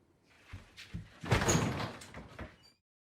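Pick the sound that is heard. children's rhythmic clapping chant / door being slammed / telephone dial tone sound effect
door being slammed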